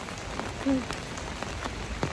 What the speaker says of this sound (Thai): แล้วตอนนี้ฝนตกทั้งวันทั้งคืนเลย